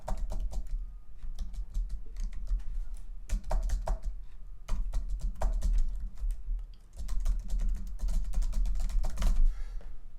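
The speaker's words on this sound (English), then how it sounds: "Hang on while I type it all out." Fast typing of an email address on a computer keyboard, close up: dense, irregular bursts of key clicks with brief pauses, no voices.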